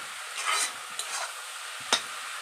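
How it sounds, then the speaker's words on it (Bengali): Green chillies and Kashmiri chilli powder stirred in a hot pan, a soft scraping sizzle with a few louder strokes and one sharp clink near the end, no voices. "এখন আমি দিয়ে দিচ্ছি কাঁচা লঙ্কা আর দিয়ে দিচ্ছি কাশ্মীরি লঙ্কার গুঁড়ো, দিয়ে এখন ভালো করে নেড়ে নেব।"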